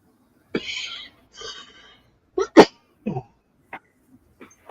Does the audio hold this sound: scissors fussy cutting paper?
no